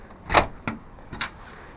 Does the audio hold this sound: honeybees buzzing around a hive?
no